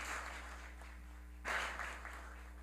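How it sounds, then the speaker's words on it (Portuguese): Faint applause in a city council plenary session, a soft patter of hands over a steady electrical hum, swelling briefly in the middle before settling. "Uma salva de palmas, por favor."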